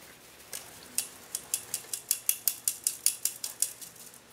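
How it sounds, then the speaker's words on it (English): Flour, salt, baking soda and baking powder shaken through a metal sieve for naan dough, a quick, quiet, regular series of soft rattling taps, about a dozen strokes, without talk. "Sieve everything together."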